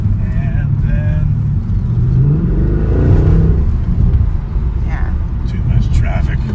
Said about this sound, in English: So let's see what that engine sounds like.